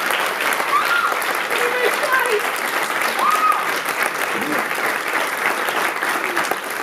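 An audience applauds parents during a Portuguese-language speech, with dense, sustained clapping at a steady level throughout and faint voices mixed in beneath it.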